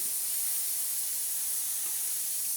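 Airbrush spraying varnish over a 1/48 scale Eduard SE5a model, a steady, even hiss held without a break throughout, fairly quiet and close with no talking.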